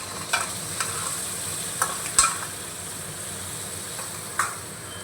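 Masala paste frying in a pan on a gas flame while being stirred, with a steady low sizzle broken by a few soft scrapes and taps of the spoon against the pan.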